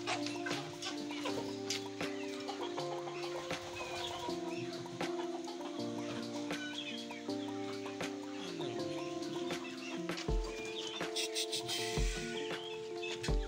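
Chickens in a bamboo shed cluck and squawk continuously around a nearby person, with busy overlapping calls close by and occasional talk mixed in.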